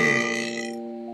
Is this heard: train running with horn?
no